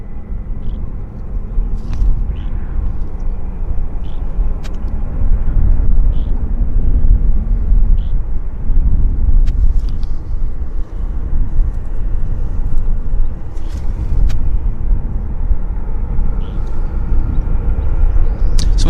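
An airliner landing at Vancouver airport rumbles steadily with a broad, low engine roar heard from a spotting position, continuous and fairly loud throughout with faint distant clicks above.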